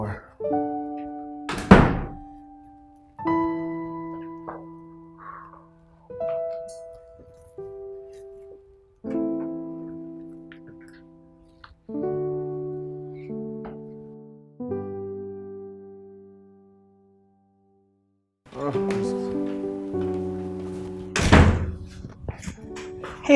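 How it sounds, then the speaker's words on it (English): A door thunks shut twice, once early and once near the end, heavy and close, between long stretches of soft, sustained melodic music. "Oh, this door."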